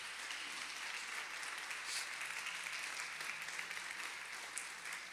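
Congregation applauding during a church sermon, a faint, steady wash of clapping from a distant crowd lasting several seconds with no talk over it.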